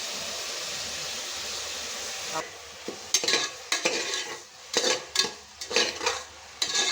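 Masala with ginger garlic paste sizzles in a pan for chicken kurma while a spoon stirs and scrapes in quick, irregular bursts against the metal, close and clear.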